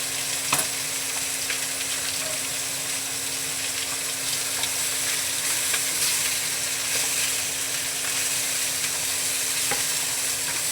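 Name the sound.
garlic sizzling and being stirred in a frying pan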